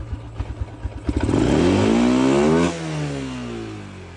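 A Yamaha LC 2012 motorcycle engine under restoration is started close by. A few clattering cranks catch into a loud rising rev, which holds briefly and then drops back to a rougher idle.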